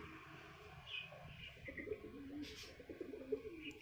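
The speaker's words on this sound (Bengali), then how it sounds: "এই একটা নর পায়রা দেখাচ্ছি ম্যাড্রাস" A male Madras high-flyer pigeon coos softly in repeated low, throaty phrases, faint and close, with light chirps in the background.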